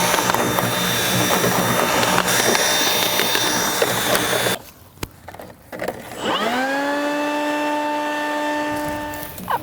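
A power drill spins a cleaning brush through metal dryer duct tubing, giving a loud, continuous whirring scrape for several seconds. After a short near-silent gap, a rising tonal whine from the drill spinning up rings on steadily.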